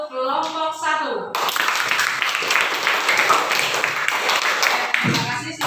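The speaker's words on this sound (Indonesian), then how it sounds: "kita kasih tepuk tangan untuk kelompok 1" A class of students claps for group 1 in a school lesson, bursting into dense, rapid applause after a brief spoken line and fading as a voice returns at the end.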